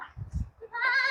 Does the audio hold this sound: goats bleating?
yes